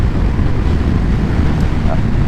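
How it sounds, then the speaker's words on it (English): Heavy headwind buffeting a microphone while riding a Honda CB250RS motorcycle, a constant low roar with rumbling gusts throughout. "Oh, it's windy, real headwind here."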